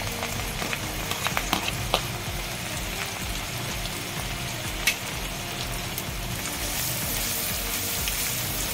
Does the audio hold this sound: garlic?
yes